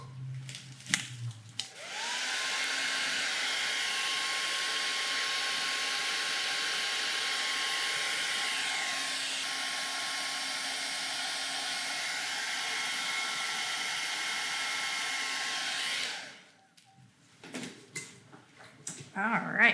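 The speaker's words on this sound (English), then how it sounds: "I've got to get this dry, so let me get to the blow dryer." A hair dryer drying paint on a stenciled wood sign whirs steadily for about fourteen seconds, loud and close, then clicks off, leaving quiet handling noises.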